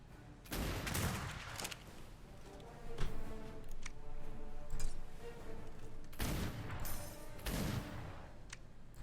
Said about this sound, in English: Shoot the bloody bear.